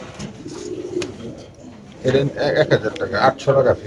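Racer pigeons at a pigeon farm coo in soft, throaty bursts, growing louder and more frequent in the second half, with a person speaking over them.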